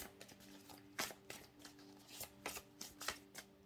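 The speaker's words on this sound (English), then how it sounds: "All right, one more shuffle." Quiet, close riffling and slapping of tarot cards being shuffled in uneven bursts, with a low steady hum underneath and no voices.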